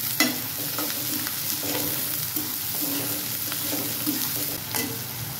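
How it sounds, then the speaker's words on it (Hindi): Green chillies and two onions hit hot oil with cumin for a sprouted mung sabzi, giving a steady close sizzle broken by repeated scraping stirs of a spoon in the pan. "अब हम इसमें डाल देंगे हरी मिर्च और दो प्याज"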